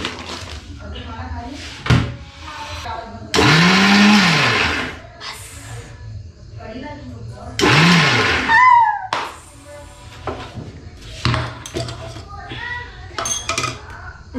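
A kitchen mixer grinder whirs through chillies for a spicy thecha in two short, loud grinding bursts that spin up and wind down, with people talking between and around them.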